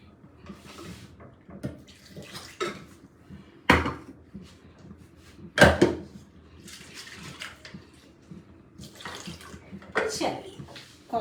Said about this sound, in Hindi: इसमें मैं थोड़ा सा पानी डाल के हिला के डाल दूंगी।